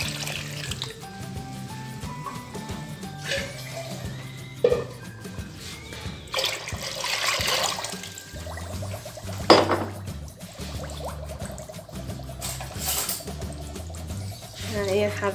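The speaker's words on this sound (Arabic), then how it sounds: "صافي نكبو الجيترو ديال الماء" A liter of water poured from a jug into a pot of sugar to make homemade honey syrup, a steady splashing pour with metallic clinks of pans, while someone talks over it nearby.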